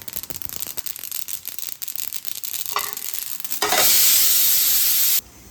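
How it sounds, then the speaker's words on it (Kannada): Peanuts and sesame seeds are dry-fried in a pan, with rattling, scraping stirs close by, followed by a brief burst of loud, steady hissing that cuts off abruptly. "ಶೇಂಗಾ ಮತ್ತು ಎಳ್ಳು ಚಲೋ ಫ್ರೈ ಮಾಡ್ಕೋಬೇಕು."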